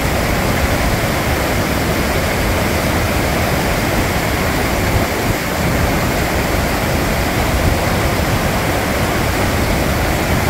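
A Himalayan waterfall and glacier-fed river on the Annapurna Base Camp trek in Nepal roar loudly and constantly, a thick unbroken hiss of falling water with no voices.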